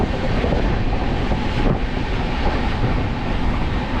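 The Sealdah–Puri Duronto Express runs at night, its steady loud rumble and rushing wind noise filling the carriage without pause.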